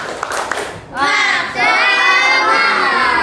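Schoolchildren in a classroom doing a rhythmic group clap, then breaking into a loud, high chorus of shouted cheering that fills the room and holds for a couple of seconds.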